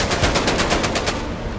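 Rapid automatic gunfire in Medal of Honor VR, a steady burst of about a dozen close, loud shots in quick rhythm, then fading into a brief tail.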